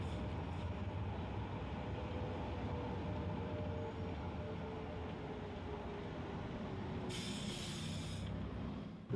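A Sheffield Supertram running through the city centre gives a steady low rumble and rolling hum, with a brief hissing burst near the end.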